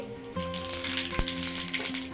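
Cumin seeds sizzle and crackle steadily in hot oil in a pan, close up, with a faint electrical hum underneath and no talking.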